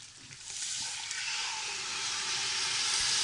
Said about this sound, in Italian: Abbiamo rosolato, gli mettiamo il vino.